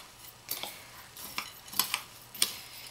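Sugar and tea being stirred into a baklava filling, giving a series of light scraping and clinking taps of a utensil against a bowl, spread irregularly over a few seconds, fairly close and quiet with no talk.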